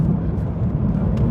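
A 2016 Mini Clubman Cooper S four-cylinder engine rumbles loudly on a wet country road in the rain, heard as a short burst of dense, low growl mixed with road noise.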